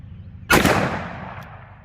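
A single sharp report from a .357 Magnum XTP round fired through a 4-inch Ruger GP100 revolver, loud and sudden, followed by a decaying outdoor echo.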